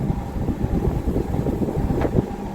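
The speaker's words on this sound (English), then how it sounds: "Very windy this morning." Steady low wind rumble buffeting the microphone on a river by a boat, continuous and fairly loud, with a brief higher gust or hiss near the end.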